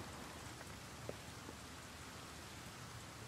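Steady rain falling in a cemetery beside a chapel at night, a dense, even hiss of drops with a few faint taps, with no voices.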